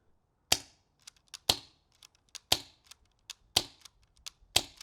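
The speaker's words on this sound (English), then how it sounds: "I'm gonna do 5 shots without the suppressor and 5 shots with the suppressor." An airsoft sniper rifle fired without a suppressor, five loud, sharp snapping shots evenly spaced about a second apart, each followed by faint small clicks of the mechanism in otherwise quiet surroundings.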